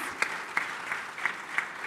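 Audience applause for the panel at a business plenary on Africa's integration, a steady wash of many hands clapping with a few sharper claps standing out, moderately distant and fairly soft, no talk.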